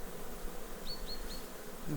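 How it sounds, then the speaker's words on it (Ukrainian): Honeybees buzz steadily as a beekeeper shakes them off a hive frame, a faint continuous insect drone with a few brief higher chirps midway. "І всю іншу бджолу я струшую"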